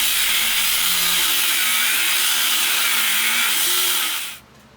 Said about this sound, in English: I'm going to remove the bulk of the material with the angle grinder